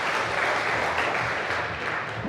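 Audience applause at a hacker camp talk, a steady dense wash of clapping filling the room for a couple of seconds, moderately loud with no voices over it.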